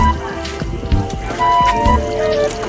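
Rain patters and drips onto a surface nearby, with scattered knocks and a faint tone in the background.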